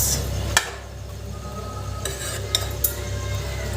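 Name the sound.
stirring bottle gourd curry in a kadhai with a spoon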